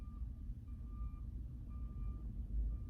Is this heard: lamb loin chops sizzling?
no